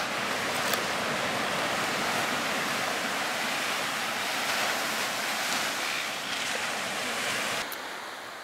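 Ocean surf washes steadily onto a beach, a broad continuous roar of breaking waves with some wind buffeting the microphone.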